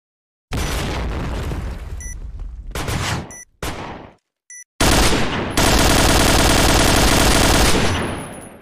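Gunfire and a grenade explosion in the video game Pointblank: loud bursts of automatic fire broken by short gaps, then a heavy blast and a long roaring rumble that slowly fades.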